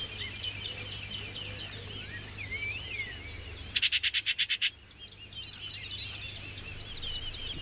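Common magpies call amid scattered birdsong in the Extremadura countryside of Spain, with a short burst of rapid harsh chattering notes standing out clearly from the softer surrounding chirps.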